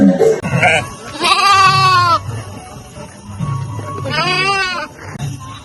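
Sheep from a flock travelling with the Sant Balumama palkhi procession at Domkani bleat loudly twice, a long wavering call followed by a shorter one, over low rumbling background noise.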